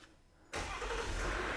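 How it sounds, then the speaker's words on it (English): A Jeep camper engine cranks and catches after a short quiet moment, then settles into a loud, steady running rumble close by, its first start after sitting for a while. "That is the first time it's been running in a while."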